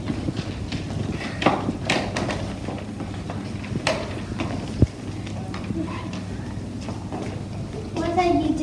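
Donkey hooves clip-clop steadily at a walking pace beside a doorway, mid-distance and moderately loud, while people talk and murmur nearby throughout.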